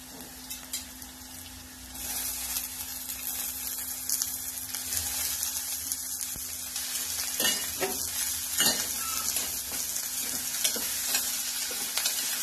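Bitter gourd frying with onion in a pan gives a steady, close sizzle, broken by scraping stirs and a few clinks of the utensil against the pan.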